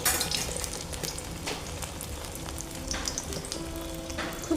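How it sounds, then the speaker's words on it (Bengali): Jackfruit seed and Malabar spinach fritters deep frying one at a time in hot oil over a strong village clay stove fire, giving a steady, moderately loud bubbling sizzle with occasional crackles. "বড়াগুলো একটা একটা করে দিয়ে ভেজে নেব"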